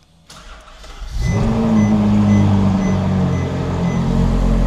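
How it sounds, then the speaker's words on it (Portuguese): A Ferrari engine cold-starts: a brief crank after a quiet moment, then the engine catches and settles into a loud, steady high idle that holds to the end, heard close with no talking. "acho que vou ligar o carro"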